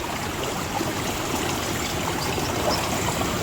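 Runoff water from neighbouring fields flows through a stream bed outdoors, a steady bubbling gurgle of moderate loudness with no break, close to the listener.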